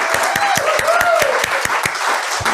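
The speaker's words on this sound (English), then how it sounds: "can we give another round of applause real quick?" A church congregation claps for a round of applause, brisk close hand claps in a steady rhythm, with a voice talking faintly underneath.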